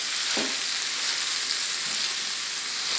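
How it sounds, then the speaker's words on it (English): Vegetables sizzling in a skillet over medium-low heat, a dense even hiss with a faint soft thud of mashing near the start and little else. "And my skillet is over medium-low heat. Yeah, just mash the vegetables."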